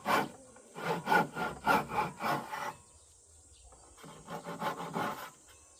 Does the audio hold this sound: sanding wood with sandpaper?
yes